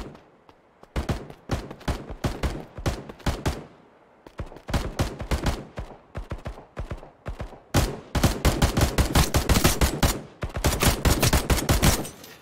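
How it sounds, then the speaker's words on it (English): A shotgun firing in the video game Passed Out Prologue, loud and close: sharp, repeated blasts in uneven bursts, some shots spaced apart and others fired in rapid runs, with no talking. "Let's see what shotgun does. I just shot."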